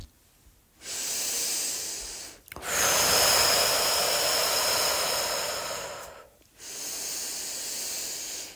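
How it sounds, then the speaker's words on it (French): Deep, quickened breathing during a guided motivational visualisation: three long, loud breathy inhales or exhales up close, airy and hissing, separated by brief silences, with no talk. "Tu vas commencer à pouvoir à nouveau accélérer un petit peu ta respiration plus profondément."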